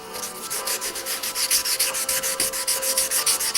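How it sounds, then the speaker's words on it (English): Rhythmic back-and-forth scrubbing of 320 grit sandpaper over corroded aluminium on a Suzuki GSX1400, a close, steady rasping with even strokes and no talk. "second big mistake was using 320 grit sandpaper"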